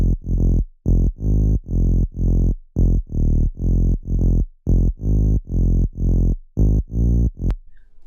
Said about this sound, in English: The bit crusher just makes it a little bit more crispy and I like it a bit better.